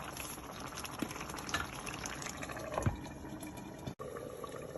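Meatballs and peas simmering in a pot, a steady low bubbling with occasional soft pops, close and continuous, with no voices.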